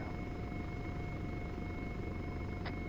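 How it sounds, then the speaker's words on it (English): A helicopter during a military-style RFA operation, its steady rotor and engine drone holding loud and constant throughout with a continuous whine on top, no voices heard. "I have eyes on the helicopter."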